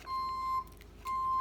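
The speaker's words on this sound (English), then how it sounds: "your soundtrack to this one is the beeping of a backing up truck" A reversing truck's backup beeper sounds as a steady, sustained electronic tone, cutting out briefly in the middle before resuming, heard faintly at a distance with no talk.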